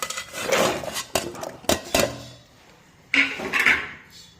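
Chopped taro dropped into a cooking pot, a few clattering knocks and scrapes of pieces and utensil against the metal vessel, separated by short pauses.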